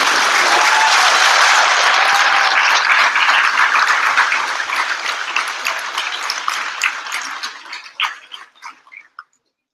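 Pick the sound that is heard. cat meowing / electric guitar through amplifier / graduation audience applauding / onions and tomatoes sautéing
graduation audience applauding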